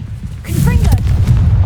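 A booming Confringo blast from Hogwarts Legacy swells in after a short quiet start, loud and near, while a voice speaks briefly over the rumbling game audio.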